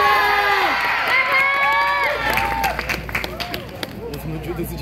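Crowd cheering and clapping from a festival audience at the 2016 NCHU Lake Festival after a band set, a broad, steady wash of noise with voices ringing through it.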